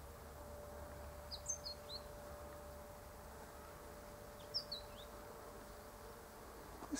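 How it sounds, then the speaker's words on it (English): Mistletoebirds sing faintly in the distance from a home garden with almond blossom, in two brief bursts of quick high chirps over a quiet, steady hum. "And I can hear the mistletoe birds singing in the distance."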